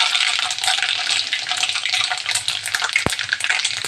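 Cumin seeds crackle and sizzle loudly in hot oil as a tadka for kadhi, a dense continuous frying hiss with small pops throughout and no talking.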